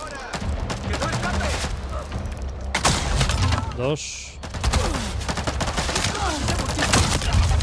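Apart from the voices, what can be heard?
gunshots from the video game Avatar: Frontiers of Pandora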